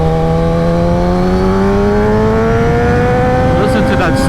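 A Kawasaki ZX-10R motorcycle engine pulls hard and loud while riding, its pitch climbing steadily as it accelerates through a gear, with wind rush beneath and brief crackles near the end.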